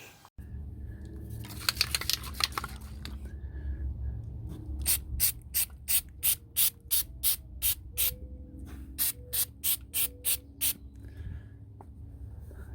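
A spray paint can hisses onto a car rocker panel, first in a longer burst and then in a series of short, evenly rhythmic spurts, heard up close with no talking.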